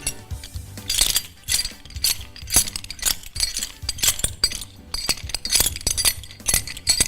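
Foley artist imitating a horse-drawn carriage with handheld props, producing rhythmic clopping and clinking hits with jingling metallic rattles, close and fairly loud, repeating in a trotting pattern without talk.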